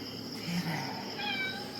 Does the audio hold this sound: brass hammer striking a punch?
no